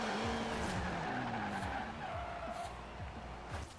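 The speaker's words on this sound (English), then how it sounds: "hit the e-brake and drift past them" A car drifts in the Forza Horizon racing game after an e-brake pull, its tires squealing in long wavering screeches over a steady engine drone. Several sharp skid bursts repeat through the clip, loud and close.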